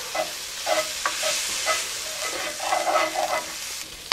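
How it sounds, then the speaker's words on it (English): Jimmy Dean breakfast sausage browning with butter in a pan, a steady close sizzle with repeated scraping stirs throughout, no voices. "1 pound of Jimmy Dean breakfast sausage and I'm just going to brown it up."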